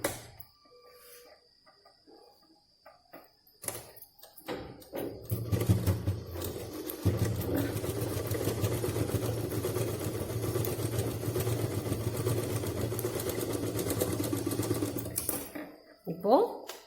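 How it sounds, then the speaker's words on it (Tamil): A sewing machine stitches a seam on a cloth purse, a brief start and then a steady, close running hum with rapid needle clatter for about ten seconds before stopping; a voice speaks faintly at the start. "அதே மாதிரி இந்த பக்கமும் இங்கேருந்து இங்கே வரைக்கும் ஒரு தையல்."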